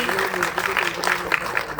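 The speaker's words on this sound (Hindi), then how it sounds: "जोरदार तालियां प्लीज" Applause from an audience at a government education event in Uttarakhand, a dense patter of clapping hands filling the short moment under a speaker's amplified voice.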